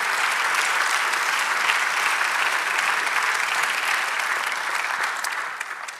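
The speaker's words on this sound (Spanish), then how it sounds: "Dale otro aplauso" A church congregation applauding, a sustained wash of dense clapping that carries on steadily and tapers off near the end, with no speech over it.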